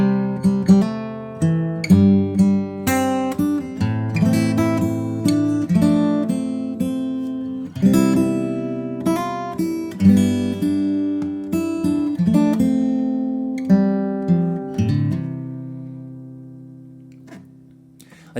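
Fingerstyle acoustic guitar plays a verse of a song with hammer-ons, pull-offs and slides, flowing plucked notes over bass lines, close and clear, fading on a final ringing chord.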